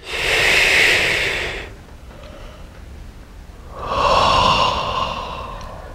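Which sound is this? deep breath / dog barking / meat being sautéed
deep breath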